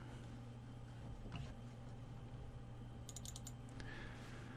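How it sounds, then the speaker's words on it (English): Someone types a username and password on a computer keyboard, quiet close key taps scattered over a low steady hum, with a brief quick burst of clicks near the end. "now we'll type in the default username and password, which is UBNT twice"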